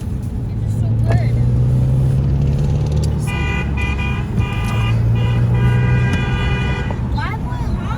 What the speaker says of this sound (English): Why am I honking?